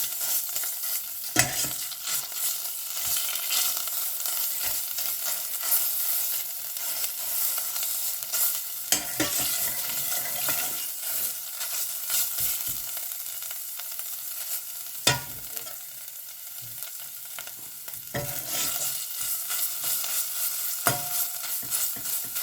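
Green curry paste frying and being stirred in a hot pan, a steady close sizzle with occasional scraping strokes of a utensil, no voices.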